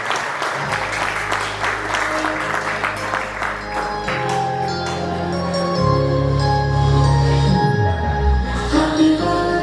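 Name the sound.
birthday party guests applauding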